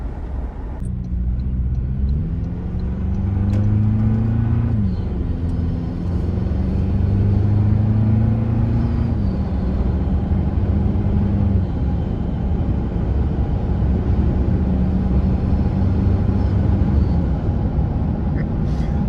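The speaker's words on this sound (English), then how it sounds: "I smile because I can hear the turbo, which I really like" A turbocharged car fitted with an SXTH Element off-road trail pipe drives along, heard from inside. A constant loud engine drone fills the clip, with tones that rise and fall as it shifts and accelerates.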